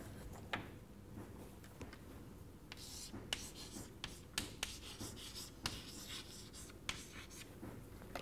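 Marker or chalk scratches across a classroom board in short strokes and taps, with quiet, intermittent writing sounds over a low room hum.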